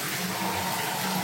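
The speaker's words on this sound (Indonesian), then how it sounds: "Sekarang saya buka keran yang lain." Water from a second tap opened on a household plumbing line fed by an instant gas or electric water heater, a steady broadband rush close by, running continuously without pause.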